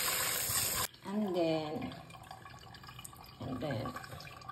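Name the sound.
running water for washing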